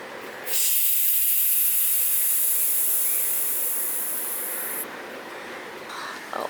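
A pressurized garden sprayer lets out a steady, close, loud hiss of liquid fertilizer mist onto leaves that holds for about four seconds, then drops to a softer background hiss after a click.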